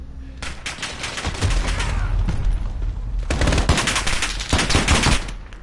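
An automatic gun fires long, rapid bursts in Call of Duty Modern Warfare, loud and close. Two sustained strings of shots are split by a short pause.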